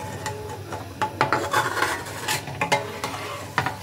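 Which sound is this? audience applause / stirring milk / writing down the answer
stirring milk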